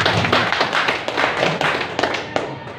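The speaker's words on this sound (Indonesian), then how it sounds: "Untuk itu kita berikan aplaus kepada Bapak Wali Negari." Applause for the village head at a council plenary session in Padang Sibusuk, heard as a dense wash of many hands clapping steadily for nearly three seconds, with a few sharper individual claps standing out near the end.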